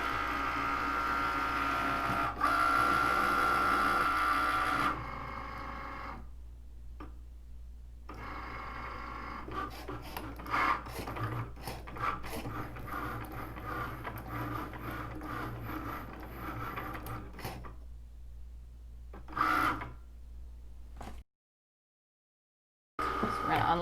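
A Cricut Maker cutting machine runs close by, its motor whirring steadily with bursts of carriage movement, short pauses and a brief silent stretch near the end.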